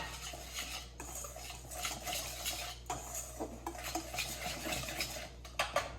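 Dry pancake ingredients (flour, yeast, sugar, vanilla sugar and salt) being whisked together in a bowl, a close, steady scraping and clinking of utensil against the dish with irregular light taps and a low background hum.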